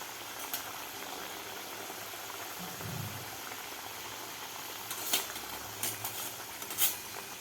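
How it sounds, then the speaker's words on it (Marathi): Wheat flour breakfast snacks deep-fry in hot oil, a steady faint bubbling hiss running throughout, with a few light clinks of a utensil near the end. "बाकीसुद्धा आपल्याला अशा प्रकारे गोल्डन कलर होईपर्यंत तळून घ्यायचे आहेत"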